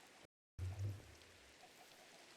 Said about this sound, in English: another rainy day. Nothing like having a little bit of rain.